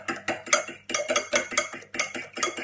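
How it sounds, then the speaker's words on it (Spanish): A whisk beats eggs in a bowl, giving rapid rhythmic clinking and scraping strokes in a kitchen, close and fairly loud, without speech. "Batimos huevos."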